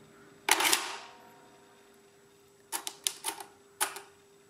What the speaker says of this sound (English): Pressing the plus button, it adds that number to the main register, increments the counter, and clears the keyboard.